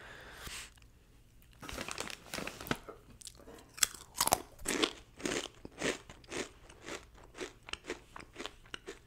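Loud, close crunching and chewing of Blue Heat Takis rolled tortilla chips, with sharp bites followed by a steady rhythmic series of crisp crunches and faint bag crinkles, no talking.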